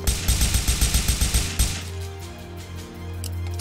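Enemies firing in the game Gears of Babies, a rapid burst of about a dozen evenly spaced gunshots for over a second, loud and close, then stopping into a low hum of game noise.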